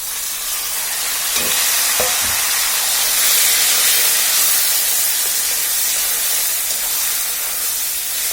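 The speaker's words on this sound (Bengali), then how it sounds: "আমাদের রসুনটি প্রায় লালচে হয়ে আসছে। এখন আমরা যে শাকগুলো নামিয়ে রেখেছিলাম তার মধ্যে এখন দিয়ে দিব।" Kochu greens drop into hot oil with browning garlic in a pan, bursting into a loud, steady hiss and sizzle after a few brief clatters, close up and without talk.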